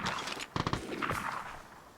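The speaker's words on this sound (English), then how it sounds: "look, a shotgun went off" A shotgun goes off in the game Vigor, one sharp blast at a moderate distance followed by a short tail of echoing reports that fades over the next second.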